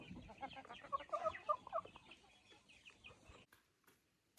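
Chickens softly clucking and murmuring close by as they peck at bread soaked in water, a few short calls in a quiet barnyard before falling silent.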